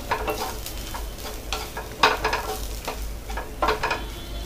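Coriander powder and chilli powder stirred in a hot pan for a country chicken gravy, with scraping spoon strokes and a light crackle, a few sharper clinks standing out, no talking.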